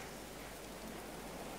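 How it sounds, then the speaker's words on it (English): Rain falls in the medieval colony-building video game Going Medieval, a steady dense hiss of drops with no breaks and no voices over it. "That's so nice, how the rain goes"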